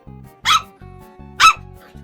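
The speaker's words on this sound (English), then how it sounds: "That high-pitched yip, that means I'm tiny" Two sharp, high-pitched yips from a small dog ring out about a second apart, each brief and close, over a steady low mechanical hum.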